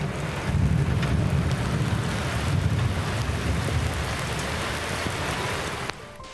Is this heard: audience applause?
no